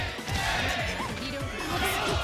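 At a fighting game tournament, a crowd in a large hall roars and cheers steadily and loudly. A jumble of voices sustains a dense, continuous wall of noise throughout.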